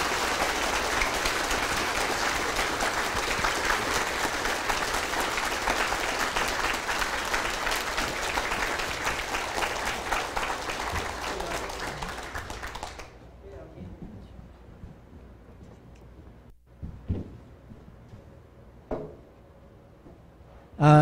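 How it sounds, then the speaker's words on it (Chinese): An assembly audience at a political meeting gives sustained applause after a speech, then it stops abruptly, leaving a quiet room with a few knocks and faint sounds. "我们再一次的掌声，谢谢"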